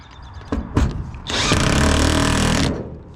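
A power impact wrench tightening bolts on a pressure washing truck build, a couple of short sharp clicks and knocks followed by a loud, close, sustained whirring burst of more than a second, with no talk.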